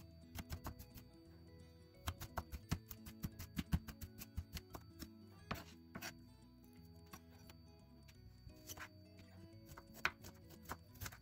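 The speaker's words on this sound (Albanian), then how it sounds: "do mundohemi t'i grim sa më imët të mundemi" A knife chops two whole onions finely on a board for a lamb petanik dish, giving rapid, steady, crisp taps close by with no talk.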